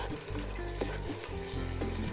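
Onions softening in a pan for Turkish-style biryani fry with a steady close sizzle while being stirred, soft scraping strokes breaking through the hiss.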